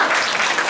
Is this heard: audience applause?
yes